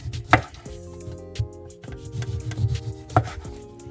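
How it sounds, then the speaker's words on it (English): Orange peel being pulled and torn away by hand ahead of juicing, close and dry with scattered rubbing and tearing bursts, a few sharper snaps standing out, no talk. "just not peeling the orange brown, just to peel it down like this"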